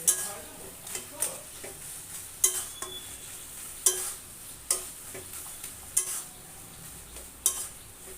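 Chui greens with salt are stirred in a pan with fish, a quiet background sizzle punctuated by sharp, regular metallic taps of the utensil against the pan, roughly once a second.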